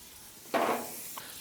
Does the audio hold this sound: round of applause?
no